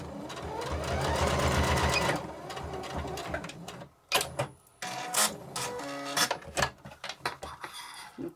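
A sewing machine stitches a fabric storage pouch for face masks, running in a steady whirring burst for about two seconds, then in short stop-start bursts with clicks and handling noises between them.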